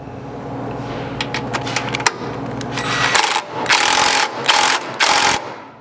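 A 5/32 hex key tightens skid plate hardware on a vehicle, giving close metallic clicks and scrapes followed by several loud ratcheting bursts.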